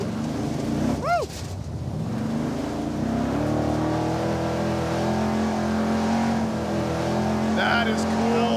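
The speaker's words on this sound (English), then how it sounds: "Oh yeah, now he's got some RPM." Dodge Charger engine revving hard and sustained as the car drifts around a circle, a loud, close, rising drone with tire noise, while people talk and cheer over it.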